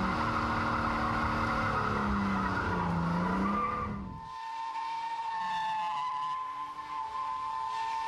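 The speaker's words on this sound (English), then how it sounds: "loads of revs, and dump the clutch. And round it goes, instant donuts" Tyres squeal loudly as a car spins in tight circles under high revs, then the screech fades into a thinner engine whine.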